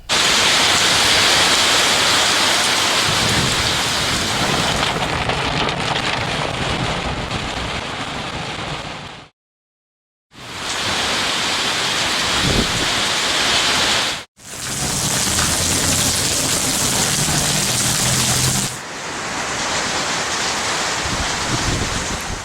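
Heavy rain pours down in a thunderstorm, making a dense, steady hiss mixed with wind noise. The sound cuts out abruptly a couple of times between sections.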